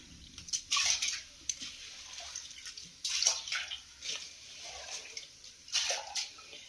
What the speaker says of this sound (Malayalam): ഇത് വെള്ളം ചെറുതായിട്ടൊന്ന് ഊറ്റി കളഞ്ഞിട്ട് അടുപ്പ് ഇട്ടാൽ മതി